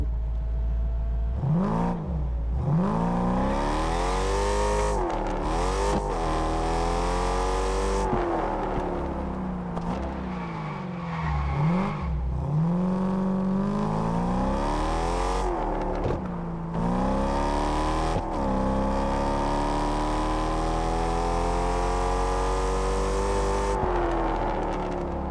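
A supercharged Dodge Challenger in Test Drive Unlimited Solar Crown revs hard and repeatedly, engine pitch sweeping up and down through gear changes, loud and close with a steady whine throughout and no talk.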